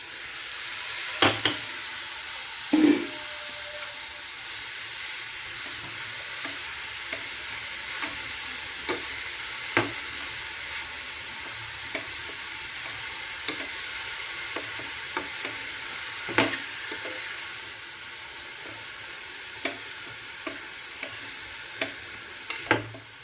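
Chopped dill greens sizzle and fry steadily in a hot pan, with occasional sharp scrapes and taps of a spatula as the leaves are stirred, loud and close with no talking.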